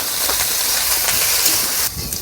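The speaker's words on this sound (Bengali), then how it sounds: "কাঁঠাল এখন ভেজে নিমু।" Young jackfruit pieces frying in hot oil in a pan, a steady loud sizzling hiss lasting throughout and dipping slightly near the end.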